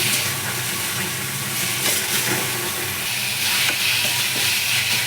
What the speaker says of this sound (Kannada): ಚೆನ್ನಾಗಿ ಹಸಿ ವಾಸನೆ ಹೋಗೋವರೆಗೂ ಬೇಯಿಸ್ಕೊಂಡ್ಬಿಡಿ ಮೂಲಂಗಿನ